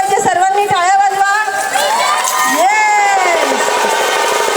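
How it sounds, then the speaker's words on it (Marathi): A crowd at a Gudi Padwa celebration in a residential society cheers, shouts and claps loudly for a children's performance, with voices rising and holding above the steady applause. "सर्वांनी टाळ्या वाजवा."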